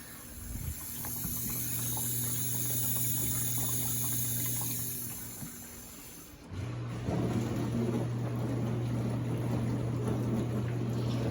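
An Amana dishwasher fills with water on its one-hour cycle, a steady low hum with rushing water under it, dipping briefly halfway before the fill resumes louder and continues.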